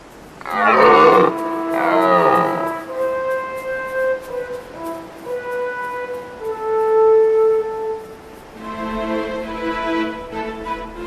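Deep, drawn-out roaring calls from stags during the autumn rut in the Arlberg mountains, several bellows in sequence echoing at a distance from the slopes, with long harmonic moans rising and falling.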